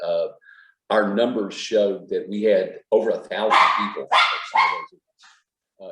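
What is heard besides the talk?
dogs barking in the background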